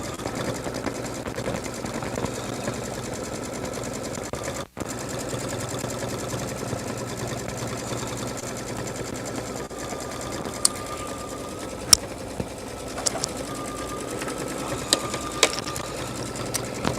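A Brother embroidery machine stitching a reference stitch: a steady, fast mechanical whirring and ticking at moderate level, continuous throughout, with a few sharp clicks near the end.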